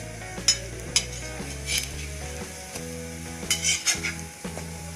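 Sweet bread slices, French toast style, frying in a pan, with a sizzle under sharp clinks and scrapes of a utensil as the slices are turned over, close and uneven in rhythm.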